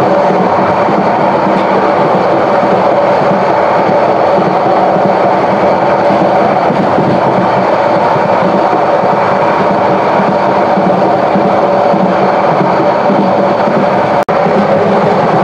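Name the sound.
Subarna Express train passing through a station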